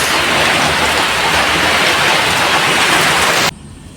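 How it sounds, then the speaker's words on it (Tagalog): Steady, heavy rain pours down outdoors, a loud dense hiss that continues evenly before cutting off abruptly near the end. "Kasalukuyan nga palang umuulan habang ako nagpipintura."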